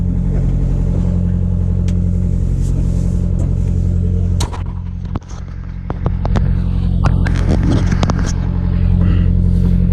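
1975 Peterbilt truck engine idling with a deep, steady rumble, close and loud, with a sharp clatter and brief dip midway before it settles back into a continuous running drone.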